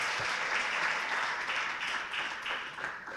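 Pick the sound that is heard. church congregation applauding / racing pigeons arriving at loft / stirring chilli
church congregation applauding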